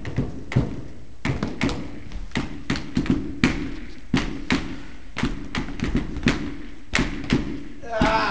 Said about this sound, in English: That tapping is really getting annoying.